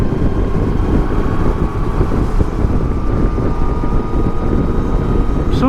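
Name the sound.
motorcycle engine while overtaking another vehicle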